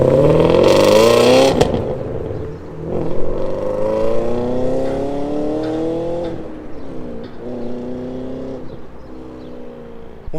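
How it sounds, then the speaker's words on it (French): A V8 car with a manual gearbox and valved exhaust revs hard and loud, pitch climbing through several gears with clear drops at each shift, then easing to a lower drone. "on entend bien le passage des rapports aussi à la boîte méca"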